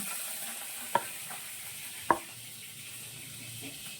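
Pointed gourds frying in a pan for dorma, a soft steady sizzle with two sharp metallic ladle knocks against the pan as they are stirred, close and fairly quiet, no voices.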